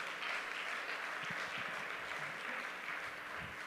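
A church congregation applauds during a sermon, a faint, distant, even wash of clapping heard throughout at low level, with a few low thumps.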